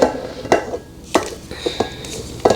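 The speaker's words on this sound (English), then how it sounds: "just want to get the sides scraped down" A spatula scrapes and knocks against the sides of a mixing bowl of caramel apple cheesecake batter with cream cheese, giving several sharp clinks and scrapes spaced across a couple of seconds, close and fairly loud.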